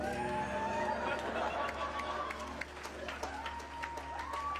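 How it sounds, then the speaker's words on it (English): Audience applause with cheering and crowd chatter, a steady wash of clapping heard at moderate distance with some babble mixed in. "he got a round of applause"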